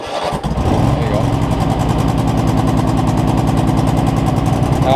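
A Husqvarna Z248F zero-turn mower engine catching and then running steadily with a rapid, even chugging pulse, close and loud throughout.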